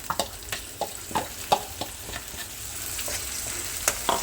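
Ginger, chili and garlic paste hits hot oil in a pan, sizzling steadily up close with a series of sharp clinks and scrapes from stirring over the hiss.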